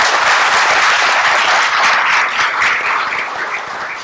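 A lecture audience applauds steadily, a dense patter of many hands clapping together, loud and close, fading slightly toward the end.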